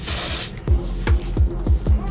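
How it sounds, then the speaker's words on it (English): A hairspray can releases one long, loud, steady hiss lasting about half a second, then falls quiet apart from soft repeated thumps. "I'm gonna spray some hairspray."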